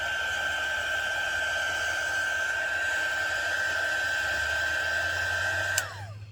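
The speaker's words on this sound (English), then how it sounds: "If you have a heat tool, most heat tools do have like high fans, and it will move your water around." A heat tool blows steadily to heat set ink on paper, a constant whirring fan hiss with a whine that winds down sharply as it switches off near the end.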